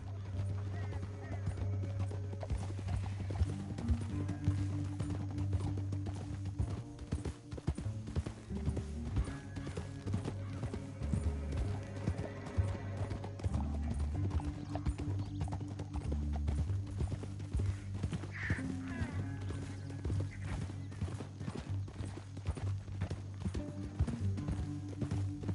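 Horses gallop in Red Dead Redemption II, a continuous rapid clip-clop of hooves under a steady low musical drone, with occasional snorts and a faint voice in the background.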